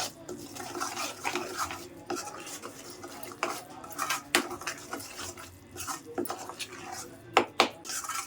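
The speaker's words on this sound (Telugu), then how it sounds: "ఈ చింతపండు గుజ్జులో ఇంక ఇది కలుపుకుంటున్నాను" Utensil scraping and stirring tamarind pulp for coriander chutney in a bowl, with several sharp clinks of a spoon against the rim, fairly close and irregular, no talking.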